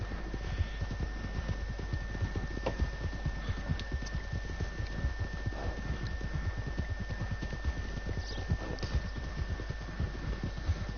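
Horse hooves clip-clopping in a steady, rapid rhythm from a horse galloping in the video game Red Dead Redemption 2 Online, with a low constant hum beneath and no talk.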